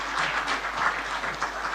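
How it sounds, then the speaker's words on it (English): Steady audience applause fills a hall at the official opening of an annual general meeting in Kenya as a guest walks onto the stage, a dense continuous wash of clapping from a large crowd. "A round of applause as he comes to stage."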